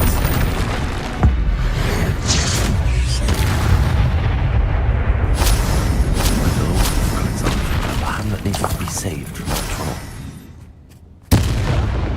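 Explosive spell blasts boom through a Hogwarts Legacy battle, loud dense low rumbling with sharp bursts near 1 s and 11 s, continuous roaring impacts that briefly die down before a final hit.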